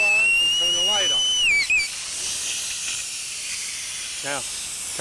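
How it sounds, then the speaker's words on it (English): A BLACOH SpillStop sensor on an air-operated diaphragm pump sounds its alarm whistle, a steady high tone lasting under two seconds before cutting off. A continuous hiss of air exhaust follows, and a voice is heard briefly. "Turn a whistle on and turn a light on."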